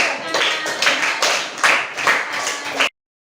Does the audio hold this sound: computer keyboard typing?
no